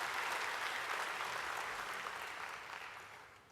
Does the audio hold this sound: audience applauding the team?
yes